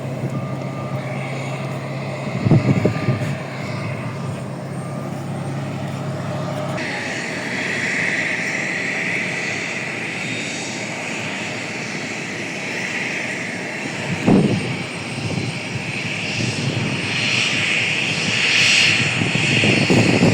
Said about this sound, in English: those jet engines,